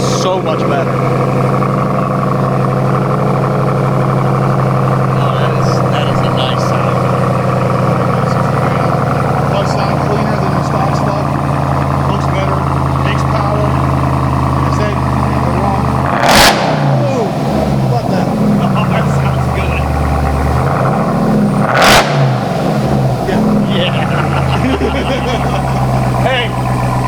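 Ram TRX pickup with an AWE aftermarket exhaust, a steady loud engine drone running throughout with two sharp rev blips standing out near the end, while people talk excitedly over it.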